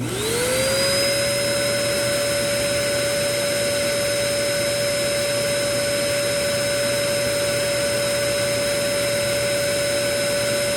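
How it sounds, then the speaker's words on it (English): A dog dryer blows out the fur of a double-coated dog, a loud, steady high-pitched whine and rushing air that rises quickly as the motor spins up and then holds constant, with no talk. "So I'm gonna do this dry first and do a whole body blowout"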